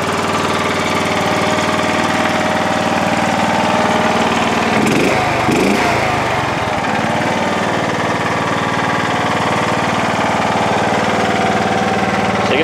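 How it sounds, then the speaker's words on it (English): An entry-level racer's engine runs steadily on its factory muffler, a loud continuous drone held close throughout with a brief rougher patch midway and no talk. "Starts easy, runs nice. Factory muffler, nothing special."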